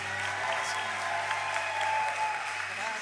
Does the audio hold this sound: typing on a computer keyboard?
no